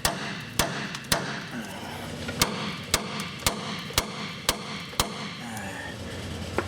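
Repeated hammer blows on the upper ball joint of a Dodge Dakota, struck to pop it loose: about ten sharp metallic whacks at an uneven pace, loud and close, over a faint background hum.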